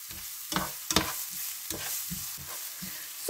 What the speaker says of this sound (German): Die Zwiebeln rühre ich immer wieder zwischendurch um.